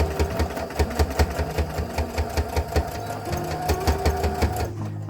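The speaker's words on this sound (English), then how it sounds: "I am back stitching at both ends just so I know my hold is secure and that this thread is not going to come out with multiple uses." A sewing machine back stitches at both ends of a seam on a small fabric tea bag bookmark, its needle thumping in a fast, even rhythm close up, with the pitch shifting slightly as it reverses.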